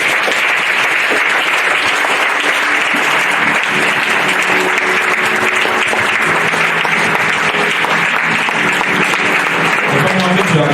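A church congregation applauds the Lord together during worship, a dense, sustained wall of clapping that stays loud and steady throughout, with voices mixed in beneath it.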